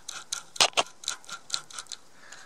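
Binding cup and cone rear wheel bearing rotated by hand, a faint, close series of irregular ticking clicks.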